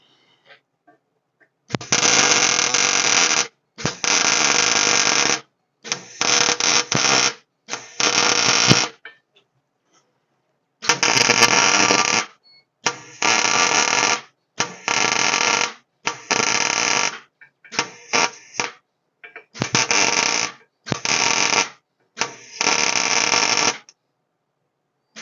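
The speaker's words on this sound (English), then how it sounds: "I'm trying to weld this pretty thick." MIG welding thick metal on mustang headers being fitted to a 1994 Ford F150 truck, a loud steady buzzing crackle in about a dozen bursts of one to two seconds each, separated by short pauses.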